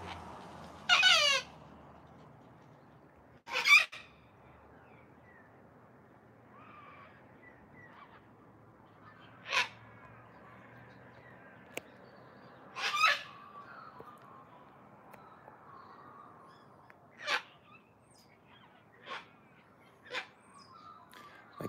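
Harsh, screeching sulphur-crested cockatoo squawks ring out one at a time with long quiet gaps between them, some fairly close, others fainter and farther off.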